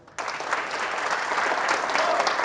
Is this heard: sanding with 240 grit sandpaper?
no